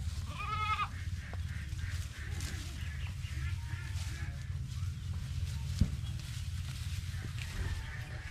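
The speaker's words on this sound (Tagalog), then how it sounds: "ito po yung ating mga kambing" A goat bleats a few times near the start over a steady low outdoor rumble, then the scene stays quiet apart from faint background noise.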